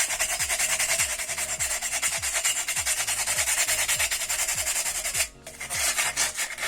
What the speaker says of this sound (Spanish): comenzamos a quitarle los bordes filosos que se pueden generar por el corte